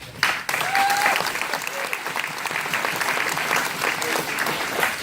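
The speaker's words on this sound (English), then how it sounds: "So they definitely deserve a round of applause there." Steady applause from a crowd at a school athletic banquet, sustained clapping that fills the whole stretch after a brief quiet start.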